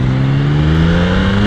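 A Yamaha MT-09 motorcycle engine revs loudly and steadily while downshifting, a continuous droning growl that holds close and full for a moment with no talk over it.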